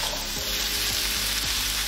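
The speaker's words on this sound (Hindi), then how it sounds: "इसे हाई फ्लेम पर 2 मिनट तक चलाएं।" Potatoes and carrots sizzle steadily in a pan over a high flame, a constant loud frying hiss broken by a few soft scraping strokes of the stirring spoon, with no voices.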